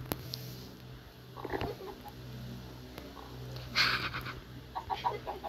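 A chicken clucks in a house-crafting video game: a couple of short, fairly faint calls over a constant background hum.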